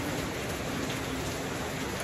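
Steady rain falls continuously, a dense hiss of drops on surfaces, fairly loud and even throughout with no voices.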